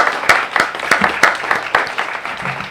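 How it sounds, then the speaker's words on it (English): An audience at a mayoral debate gives a brief round of applause, a thin scattering of hand claps in an uneven rhythm, fairly close and clear, with no talk over it. "Let's give them a round of applause"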